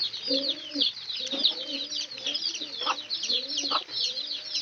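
A small tethered chicken clucks in short repeated bursts, close by, while birds chirp steadily in the background.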